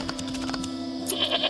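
A goat bleats in a video game, a short wavering cry with another brief bleat near the end, heard over a steady background hum and faint game sounds, with no talking.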